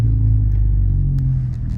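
Steady low rumble of a manual-transmission car's engine idling and creeping toward a sidewalk, heard close from inside the cabin, with a faint click or two near the end.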